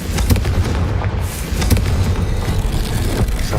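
A Confringo blasting spell goes off in Hogwarts Legacy, a loud, dense fiery roar with booming low-end rumble and crackling bursts sustained throughout, alone with no talking.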